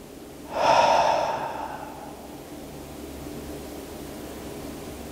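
One slow, deep breath during a guided meditation, a close airy inhale that swells and fades, then quiet room hiss.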